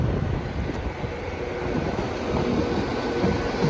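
A Transport for Wales class 197 train, unit 197015, at Swansea station gives a steady, fairly loud rumble with some wind noise, heard nearby and continuous with no talk.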